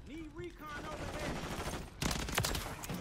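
Rapid gunfire in Call of Duty MW3 crackles in dense bursts, thickening into a heavy volley toward the end, mixed with game sounds and a voice talking over it.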